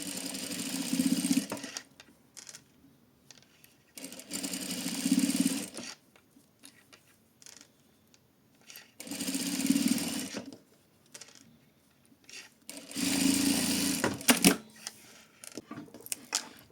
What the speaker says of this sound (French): on vient assembler tout ça en faisant une couture à 5 mm